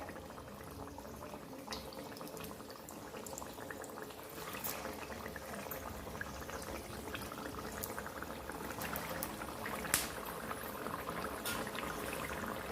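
Semolina and potato vada dropped into hot oil over a high gas flame, giving a steady, fairly loud bubbling hiss of frying that continues throughout with a few sharper crackles and spits, and no talking.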